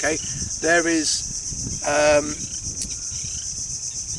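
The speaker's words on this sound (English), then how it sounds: "There's a few crickets in the background." Crickets chirp steadily outdoors in a calm, breezy spot, a continuous high-pitched trill running under a man's brief speech.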